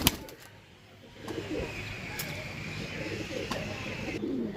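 Persian pigeons in a small sale flock coo softly and at low volume against a quiet outdoor background.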